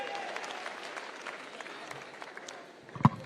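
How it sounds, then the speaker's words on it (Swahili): Crowd applause at a political party's national delegates conference in a large hall, a thin, scattered patter of clapping heard from a distance, ending with a sharp nearby knock. "Makofi kwa mheshimiwa tena."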